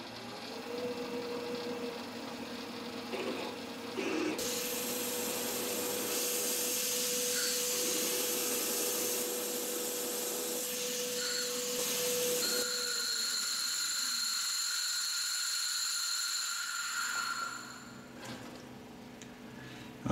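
A 5.5 millimeter drill bores a hole on a machine with a coolant mist system, giving a steady whining motor tone and high-pitched cutting noise that shifts in pitch, then spins down and fades, with no talk.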